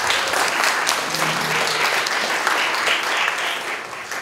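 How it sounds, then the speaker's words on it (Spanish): A conference audience applauds a speaker being welcomed to the stage, a loud, sustained, even roar of clapping that fills the full four seconds without talk. "les pido un fuerte aplauso para Tania Pariona Tarqui"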